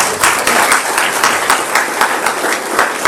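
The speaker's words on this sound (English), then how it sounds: "let's give them a hand clap, please" Audience applause for the event staff at a community coffee gathering: steady, dense hand clapping from a room of people, fairly loud and close, sustained without a break.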